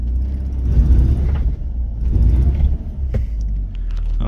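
An abandoned BMW E36's engine idles with a loud, steady low rumble, close by, rising slightly in bursts.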